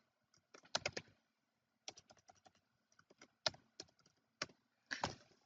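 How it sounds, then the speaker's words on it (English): Fingers type on a computer keyboard in quick bursts of close, crisp key clicks, with short pauses between flurries, alone and fairly quiet. "So I typed the person's name"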